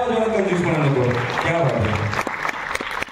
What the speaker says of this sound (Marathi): परत एकदा जोरदार टाळ्या होऊन जाऊ देत